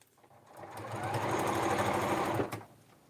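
A sewing machine runs steadily for about two seconds, stitching over a pieced quilt block. Its needle hums and chatters at an even, rapid rhythm, close and alone with no talk over it, then stops.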